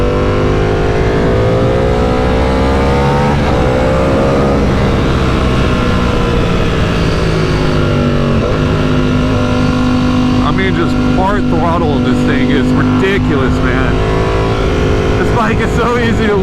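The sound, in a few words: big motorcycle accelerating in third gear, front wheel lifting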